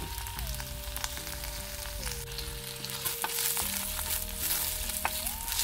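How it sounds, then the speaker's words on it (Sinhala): Chopped tomatoes and chili pieces frying in hot oil while tempering spring onion flowers, a soft continuous sizzle under a sustained tonal hum, with faint clicks and no voices. "මේ තක්කාලි ටිකත් තෙලෙන් ටිකක් තැඹෙන්න තියන්න"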